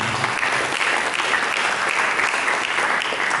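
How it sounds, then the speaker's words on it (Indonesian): A church congregation at an Indonesian sermon breaks into continuous applause, a thick, even roar of many hands clapping throughout. "Berikan tepuk tangan."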